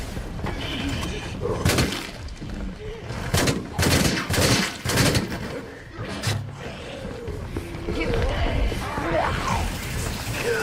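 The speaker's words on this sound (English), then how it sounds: "Short controlled burst on the plague zombies because they take multiple shots to kill." Automatic gunfire rattles in short controlled bursts at plague zombies in the video game State of Decay 3, sharp cracks clustered in quick volleys amid game sounds and layered effects, loud and close.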